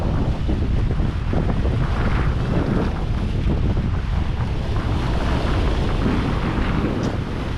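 Strong wind buffets the microphone in a continuous loud roar, with a faint wash of waves underneath and no voices.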